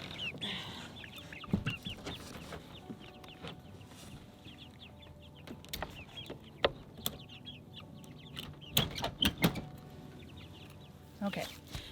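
Chickens clucking and squawking around their feed, with scattered sharp calls and bursts of activity over a low background, alongside occasional speech.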